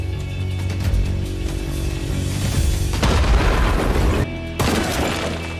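A bomb thrown at a hiding man in a film, with deep booming blasts and crackling debris over a rumbling score, loud and sustained, briefly cutting out near the end.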